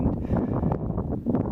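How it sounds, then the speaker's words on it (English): Outdoor wind gusting into the microphone on a hot, breezy day, a loud continuous low buffeting rumble with no clear speech. "it's a bit windy, but I appreciate that today"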